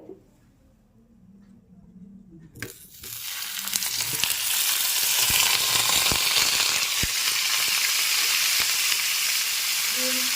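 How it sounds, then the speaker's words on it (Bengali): Boiled cauliflower pieces drop into hot oil and fry with a loud, steady sizzle and crackle that starts suddenly and carries on, with occasional stirring clinks, for a vegetarian doi phulkopi. "সিদ্ধ করা কপিগুলো একটু হালকা করে ভেজে নেব"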